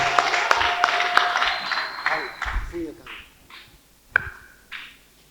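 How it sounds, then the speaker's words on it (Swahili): A church congregation at a healing service bursts into dense, loud clapping that fades after a couple of seconds, leaving scattered sharp knocks and thumps, with voices and a sustained tonal cry mixed through the crowd noise. "Chapa makofi na vigelegele."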